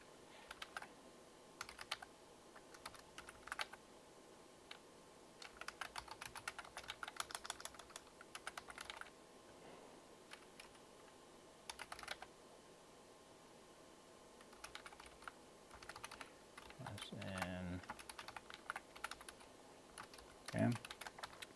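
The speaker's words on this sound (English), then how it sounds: "I'll start by typing a sentence." Bursts of rapid keyboard typing, light clicking keystrokes in uneven runs with pauses between, close by in a quiet room.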